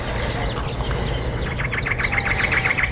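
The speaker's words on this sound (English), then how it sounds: "You can hear birds, hopefully." Birds chirp and tweet in a desert botanical garden, a run of quick repeated calls rising in the second half over steady low wind and ambient rumble, moderately near.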